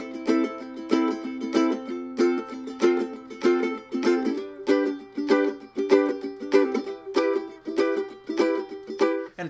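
Ukulele chords are strummed in short bursts, each chord cut off and muted right after being played, giving a choppy, staccato pattern with some chords still ringing briefly; close and clear with no talking.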